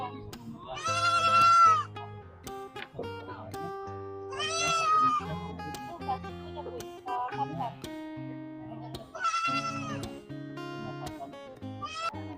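A very large male goat bleats in loud, wavering cries three times, separated by gaps filled with talk and background music.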